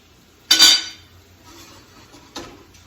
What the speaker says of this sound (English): don't forget to cover the pot